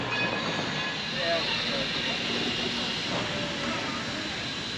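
Railroad cars being loaded onto a steam train at a Durango–Silverton railroad museum yard, a broad steady rumble and hiss with faint metallic clanks, with people talking nearby.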